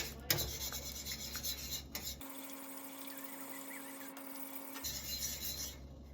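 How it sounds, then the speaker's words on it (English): Gravy being whisked in a pan on the stove for stuffed lamb chops, giving a steady scraping, rubbing swish with brief pauses and changes in pace, heard alone at moderate level. "we're going to whisk that in until it's all melted in."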